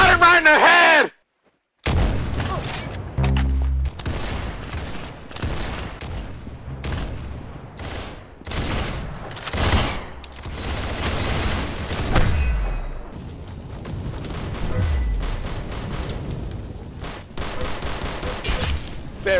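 Roblox Arsenal gunfire pops in a fast run of sharp, loud shots with short gaps between them, ending in dense rapid firing and occasional booming impacts, with speech mixed in.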